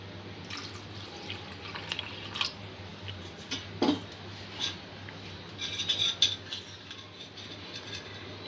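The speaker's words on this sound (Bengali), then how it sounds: "আর একটু জল দিয়ে দেব।" Water poured into a pot of chicken corn soup in a home kitchen, a soft trickling and dripping with a few light clinks, close and fairly quiet, no talking.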